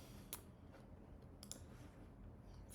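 Sparse, faint computer mouse clicks, about three or four spaced-out taps while paging through quiz screens of a UI design project, isolated over a quiet room hiss.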